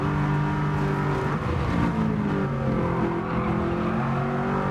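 A car in Gran Turismo 7 accelerates hard at full throttle, its steady engine roar climbing in pitch with rising harmonic bands, loud and continuous throughout with no talk.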